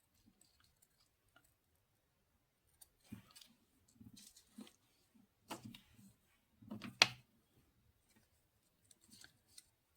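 Scissors cut a paper blossom out for a vintage nature junk journal: a handful of soft, crisp snips in short irregular clusters, close and quiet, with near silence between them.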